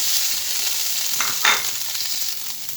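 Chicken frying in a pan with garlic and whole cumin, a loud steady sizzle with a brief swell of stirring near the middle.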